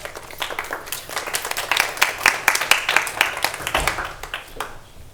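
A crowd in a county council chamber claps after a public speaker, a dense patter of applause that swells and then thins out, with a voice murmuring underneath.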